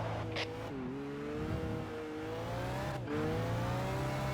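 Race car engine in Gran Turismo 5 holding a steady high-pitched drone down a straightaway, its pitch dipping briefly at a gear shift before climbing again, loud and continuous with no voices.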